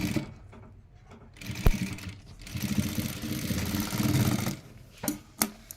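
A sewing machine stitches a lehenga border in bursts of rapid, close mechanical whirring, separated by quiet pauses and a few sharp clicks.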